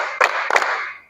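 Two sharp hand claps about a third of a second apart in a classroom clap-counting exercise, fairly close and loud against a steady background hiss, with no talking.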